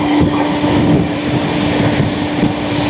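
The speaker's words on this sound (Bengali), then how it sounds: "ট্রেন এখন চলছে তার সর্বোচ্চ স্পিডের খুব কাছাকাছি 122 কিলোমিটার প্রতি ঘন্টায়" An express train from Kolkata toward Vizag runs close to its top speed of about 122 km/h, a steady loud rumble and roar with a constant hum, heard from on board.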